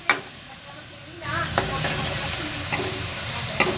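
Mixed vegetables with black pepper and dry mango powder are stirred in a hot pan, a continuous sizzle with soft scraping strokes and a few light knocks of the spoon, with faint speech in the background.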